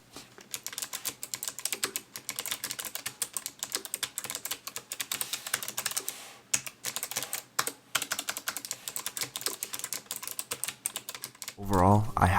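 A GAMDIAS Hermes M3 low profile keyboard is typed on in quick bursts of clicky keystrokes with brief pauses between runs, close and clear. A voice starts speaking at the very end.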